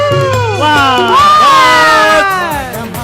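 A crowd, with many children among it, cheers and shouts loudly at an outdoor festival game show, with rising whoops and overlapping excited voices filling the whole stretch.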